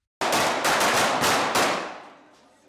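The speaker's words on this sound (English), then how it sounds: "identifying the sound of the last gunshot within it" Several sharp, loud gunshots ring out in quick succession at an outdoor site, each with a booming tail, the last one fading into a long echo.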